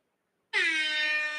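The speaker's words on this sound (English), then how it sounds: "I'm so delayed with these air horns" A single air horn sound effect on a livestream blares out abruptly after a moment of silence and holds as one loud, sustained, brassy blast.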